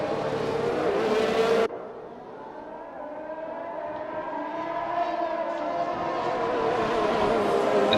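Race cars scream around the Netherlands circuit in a sim racing game, their high engine notes layered and shifting; a loud first engine cuts off abruptly, then several cars drone on, slowly rising in pitch.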